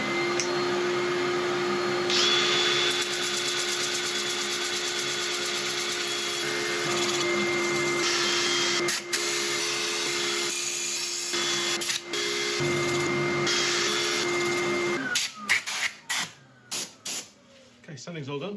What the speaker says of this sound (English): I'm going to set up for sanding